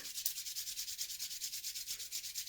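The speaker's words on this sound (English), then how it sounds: "let's energize our hands by rubbing them together." Hands rubbed briskly together, a steady rhythmic swishing of skin on skin with about ten strokes per second, close and fairly quiet, with no voice.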